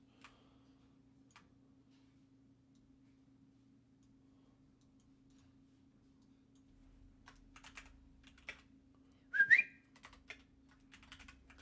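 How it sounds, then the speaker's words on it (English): A short, faint whistle rises briefly among sparse keyboard taps and soft ticking, with a low steady hum underneath in a quiet room. "Sorry if I'm whistling in your guys' ears"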